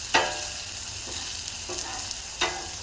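A well-done ribeye steak sizzles steadily on a Blackstone griddle, with occasional scraping spatula strokes as it is flipped, close and moderately loud with no talk.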